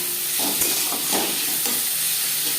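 Chopped tomatoes hit onions frying in a pan for a small-fish curry, giving a steady loud sizzle and hiss with scraping stirs. The sizzling carries on unbroken throughout, with no talking.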